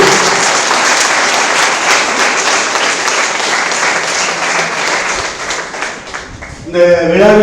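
Sustained audience applause at a one-day academic workshop, steady dense clapping that fills most of the clip before tapering, with a voice starting to speak at the very end.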